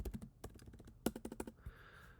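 Quick bursts of clicky keystrokes on a computer keyboard, two flurries of typing separated by a short pause, close and crisp, followed by a brief hiss.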